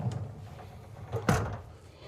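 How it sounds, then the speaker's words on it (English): Interior pocket door sliding shut on the master bathroom of a 2024 Newmar Ventana 4369 motorhome, a single soft thud of the panel meeting its jamb after a brief rolling slide, close and fairly quiet. "we've got another pocket door to close off the bathroom, the master bathroom."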